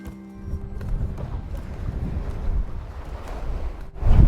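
Wind buffeting the microphone over a rough Atlantic sea aboard a small sailboat crossing alone, a steady low roar of wind and water with surging swells and a louder gust near the end, no one speaking.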